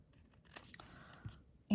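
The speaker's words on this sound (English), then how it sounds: "Let's give this a little trim." Scissors trim a strip of cardstock during card making, a short snipping cut of under two seconds heard close and alone.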